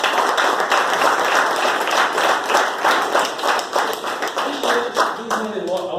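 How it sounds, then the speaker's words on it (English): An audience at a speaking event breaks into applause, a close, loud wash of many hands clapping in an even rhythm that fades slightly toward the end, with a voice briefly heard over it. "I think you should give a round of applause to yourself."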